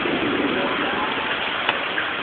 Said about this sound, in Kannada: ನೋಡಿ ಎಷ್ಟು ಜೋರು ಮಳೆ ಬರ್ತಾ ಇದೆ.